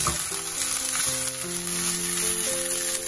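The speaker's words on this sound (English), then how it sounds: "After tossing it with the vegetable, just cook it for 2 minutes on a very high flame." Fried rice tossed with vegetables in a pan over a very high flame, a dense, constant sizzle and crackle with stirring, while music plays underneath.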